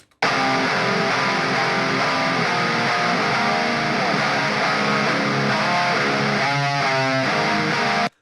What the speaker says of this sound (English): This is my heavy guitar.